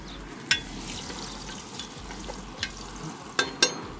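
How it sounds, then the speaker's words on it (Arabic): Garlic hisses in hot oil with a continuous close crackling sizzle, punctuated by several sharp clicks and clinks of a utensil against the pan; no one speaks. "أول ما أحط الثوم يعطينا الصوت الفخم ذاك الطربي"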